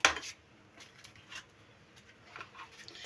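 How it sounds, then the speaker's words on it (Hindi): Spoon and bowl sounds come from mixing a moong dal and bread snack mixture by hand in a kitchen, with a clink at the start and then faint, scattered scraping and tapping at close range, no voices. "अच्छी तरह से इसे मिक्स करेंगे और इसमें डालेंगे हम पाउडर मसाले"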